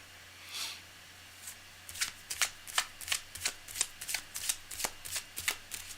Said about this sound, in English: All right, cards are well shuffled.